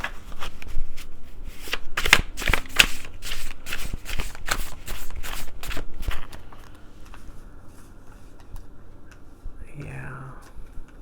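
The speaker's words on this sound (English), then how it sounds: "Just going to do a couple more passes on this deck and see" Tarot cards being shuffled close up in repeated quick riffles and flicks for several seconds, then quieter handling as a soft voice speaks near the end.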